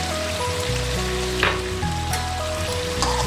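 Cumin powder, coriander powder and dried fenugreek fry in oil in a Lahori chicken karahi, giving a loud, continuous sizzle with a few crackling spikes; a musical tone runs beneath it and nobody talks.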